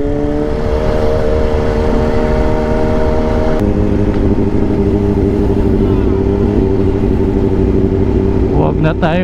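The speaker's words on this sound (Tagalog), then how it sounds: "Huwag na, masyado na maingay yung motor." A loud motorcycle engine runs steadily with a deep, throbbing tone that shifts pitch partway through, close by and continuous.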